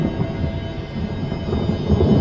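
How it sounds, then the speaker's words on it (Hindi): Thunder crashing and rumbling in a storm, a continuous loud low roll with light rain behind it, heard alone with no voices. "ठीक उसी वक्त गोल्डन गेट होटल के ऊपर आसमान में बिजली कड़की।"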